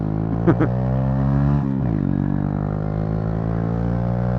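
An SSR Razkull motorcycle is ridden with its engine droning steadily close by, rising briefly as the rider opens the throttle, then holding a sustained hum.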